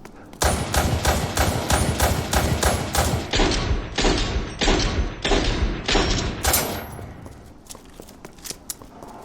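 Rapid handgun shots in Resident Evil Re:Verse, a run of about a dozen sharp, evenly spaced bangs at steady pace, loud and close, trailing off into a few faint clicks and thuds.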